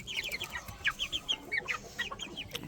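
On a farm, hens and young chicks cluck and peep in rapid, overlapping bursts close by, a busy stream of short calls over faint background noise.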